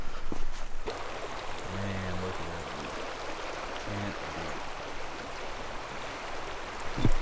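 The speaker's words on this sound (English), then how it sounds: "See if I can get you a view of this beautiful river." A beautiful river runs through Elevenmile Canyon near Lake George, Colorado, its steady broadband rush of flowing water filling the scene close by, with a few low tonal hums briefly passing underneath.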